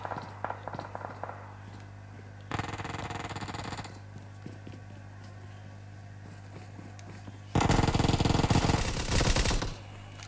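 Bursts of rapid automatic gunfire in a competitive video game scrim match, two long loud volleys separated by quieter stretches with scattered distant shots and footsteps, no talking.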